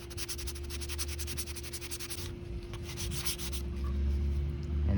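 Sandpaper rubs over filler primer on a 3D printed part in rapid, steady back-and-forth strokes, a close, raspy scratching that pauses briefly and then resumes, alongside a low steady hum.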